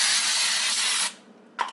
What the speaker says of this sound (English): I am going to spray with some of this nonstick baking spray.